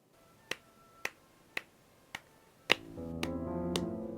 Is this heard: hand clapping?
yes